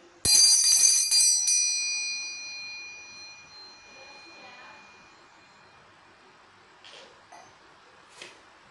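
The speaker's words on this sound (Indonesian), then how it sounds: "ditandai dengan lonceng berbunyi" A single bright bell strike rings out and slowly fades, with a few faint clinks afterward in a quiet room.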